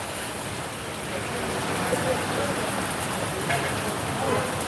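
Steady rain hisses across a waterlogged road, a dense even patter with faint swishes of passing traffic in the background.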